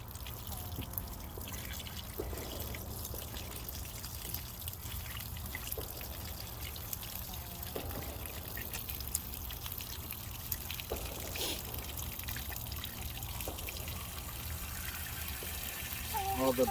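Running water rinses the inside of a raw whole chicken, a faint steady trickle and splash with intermittent soft dribbles, heard at low level throughout in a kitchen.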